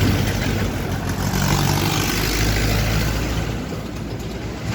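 A second-hand TVS Apache RTR 4V motorcycle engine runs steadily for the whole stretch, a continuous close rumble with a broad hiss on top and no talk.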